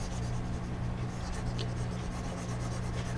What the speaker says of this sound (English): let me actually erase all of this.